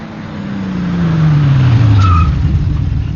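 A villain's car in an animated Pokémon movie skids hard, its tires squealing in a long falling sweep as the engine roars loudly and close.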